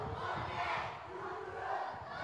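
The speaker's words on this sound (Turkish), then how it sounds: "Kırmızı beyaz tezahüratı." Fans in the stands at a women's football quarter-final chant a rhythmic red-white cheer, a massed crowd of young voices swelling and falling in pulses at a moderate distance.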